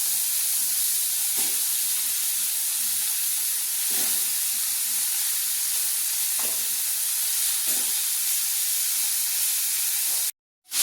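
Soybean chunks and potatoes frying in a pan, a loud, continuous close sizzle and hiss with a few stirring scrapes at regular intervals, then a sudden cutoff near the end.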